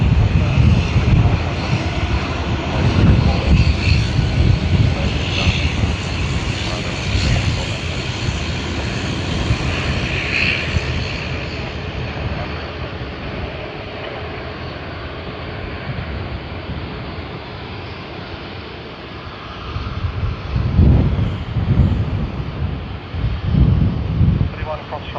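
Strong wind gusting across Sydney Airport, buffeting the microphone with a loud, continuous low roar that swells in bursts near the end, and faint talk now and then.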